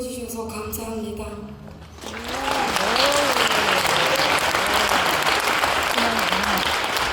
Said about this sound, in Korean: 격려의 큰 박수를 부탁드리겠습니다